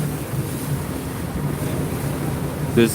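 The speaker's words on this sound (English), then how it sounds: "around this country we're surrounded by a ton of water, surrounded by the ocean." Ocean waves wash along the shore near seaside houses in Bermuda, a steady broadband rush mixed with wind buffeting the microphone, continuous and fairly loud throughout.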